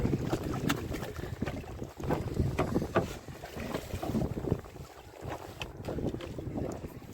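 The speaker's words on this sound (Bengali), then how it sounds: "সামনে দেখুন কেমন হাওয়া, তেমনই ঢেউ বাজছে" Steady wind buffets the microphone while waves slap and splash against a small fishing boat in the Sundarbans, a continuous rushing, choppy sound with no talking.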